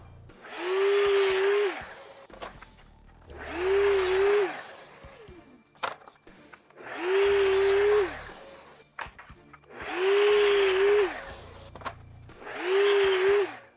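A power saw cuts wooden French cleats to length in five separate bursts, each a loud whining roar lasting about a second and a half, with quiet gaps and small knocks of handling wood between cuts.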